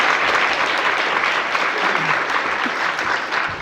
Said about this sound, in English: maybe we all take a minute and applaud everybody who just laid it out there for us